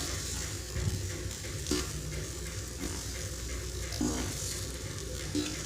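Ivy gourd (kovakkai) sautéing in a pan gives a steady soft sizzle with faint stirring scrapes recurring every few seconds, quiet and unaccompanied by talk.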